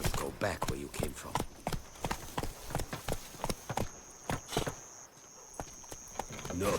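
Horse hooves clip-clop in a brisk, steady rhythm in The Witcher 3 video game, close and distinct, with talking over the hoofbeats.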